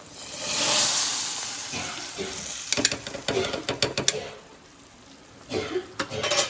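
Tempering (popu) fries and sizzles in a pan, a soft hiss rising early, then a run of sharp metal clinks and scrapes as it is stirred, with a brief voice in the background.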